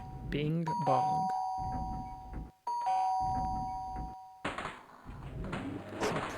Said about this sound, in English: Some pranksters just keep ringing that doorbell.